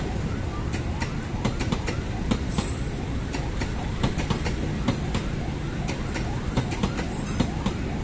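A Jakarta commuter train passes steadily for the whole stretch, its continuous rumble broken by repeated wheel clicks over rail joints, with people talking faintly underneath.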